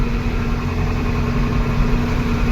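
A vehicle engine idles close by with a steady low hum and constant vibration, with no talking, during heavy rain with water spread over the road.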